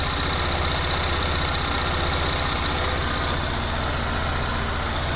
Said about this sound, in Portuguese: O motorzinho na lenta.